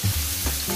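Meat sizzling in butter over high heat in a pan, a brief steady hiss and crackle heard up close with no talking.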